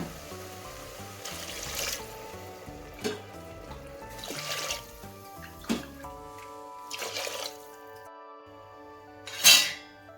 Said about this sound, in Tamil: இதுக்கு தேவையான அளவு தண்ணி ஊற்றிடலாம்